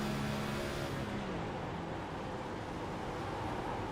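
Onboard engine drone from the number 98 race car at Kansas Speedway in a racing video game, the driver clutching on corner entry; a steady, loud engine roar holds throughout with a slight pitch dip early on.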